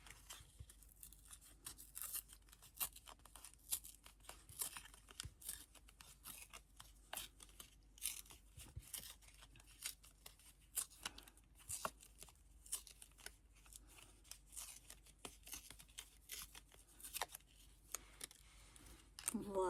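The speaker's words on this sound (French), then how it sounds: "je vais déjà venir la couper un petit peu pour pouvoir la déchirer" Scissors cut into a paper playing card, the ten of diamonds, then the card is torn for a scrapbooking project, giving soft, close, irregular snipping and ripping crackles over a quiet room.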